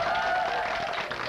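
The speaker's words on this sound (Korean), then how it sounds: "박수 한번 쳐주세요." A burst of crowd applause at a Jackie Chan film promotion event in Korea, steady clapping from many hands throughout, fairly loud and close.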